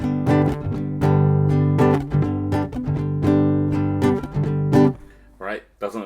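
Acoustic guitar strummed in a steady down-up pattern with each chord left ringing rather than cut short, close and fairly loud, for a beginner lesson on the song Pō Atarau; a brief voice comes in at the very end.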